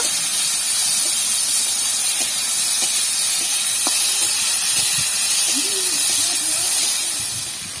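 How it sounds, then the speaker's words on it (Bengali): River eel fish fry in hot oil tempered with whole cumin, a steady, loud hiss and spray of sizzling running throughout with a few faint clicks beneath. "এর উপরেই আমরা মাছগুলো দিয়ে দেবো। এবার আমরা মাছটা ভেজে নেব।"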